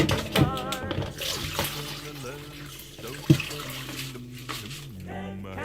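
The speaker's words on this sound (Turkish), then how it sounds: "pirinci biz ısladık. Isladıktan sonra bu suyu çöpe atmıyoruz. Şu şekilde sızdırıyoruz." Water from soaked rice being strained off in a home kitchen, a soft continuous trickle and splash under a woman's speech throughout.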